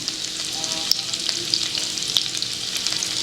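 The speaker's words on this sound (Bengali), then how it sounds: "গরম তেলে চলে গেল আদা কুচি, রসুন কুচি আর কাঁচা লঙ্কা কুচি" Chopped ginger, garlic and green chili frying in hot oil, a dense close sizzle with a few sharp spits and light stirring clicks.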